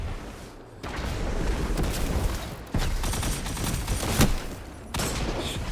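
Gunfire in a Destiny 2 Crucible match rings out in several loud sharp blasts over dense game noise, with a heavy punchy shot standing out near the end.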